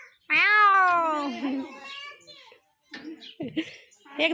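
A drawn-out, wavering meow rings out loud and close, followed by a short pause and a few softer, broken sounds.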